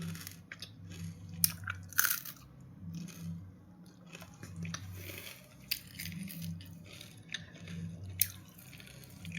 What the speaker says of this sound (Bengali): মচমচ করছে